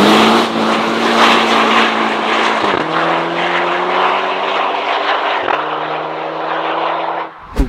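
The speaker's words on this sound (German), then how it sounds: "Also das Auto faucht auch wie die Hölle." A tuned VW Golf V GTI with a TFSI engine and a restrictive exhaust makes a loud, steady hissing roar under full boost. It is continuous for about seven seconds, with brief dips near 2.7 and 5.5 seconds as it shifts, then cuts off.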